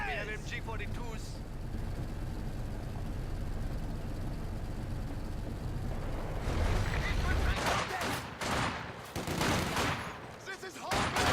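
Video game battle with MG42 machine gun fire, bursts swelling loud in the second half after a steady rumbling stretch, with shouted voices and other combat noise around it.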